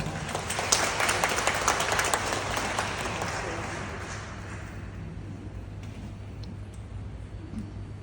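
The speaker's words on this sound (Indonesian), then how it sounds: "Kita beri tepuk tangan." A congregation at a church gathering claps in a dense burst of applause that swells loudly at first, then gradually thins and fades to a low, scattered patter over several seconds.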